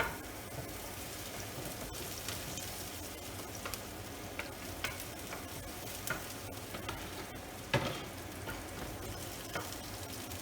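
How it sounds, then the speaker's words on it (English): Ginger and garlic sizzle steadily in hot oil over medium heat, with a continuous close crackle, scattered sharp pops and a few louder spatters, and no voices. "I'm going to put the ginger first. Ginger and garlic."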